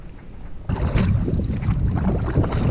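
Wind gusts buffet the microphone on open water during a canoe trip on a northern lake with a chilly headwind and choppy surface, a steady roaring rush that swells suddenly and stays loud, with no talking.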